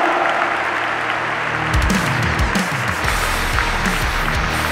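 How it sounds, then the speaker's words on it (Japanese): A large crowd at a football match claps continuously, a dense, steady wash of applause throughout with some deeper rumbling underneath. "今一緒両チーム選手に大きな拍手をお送りください"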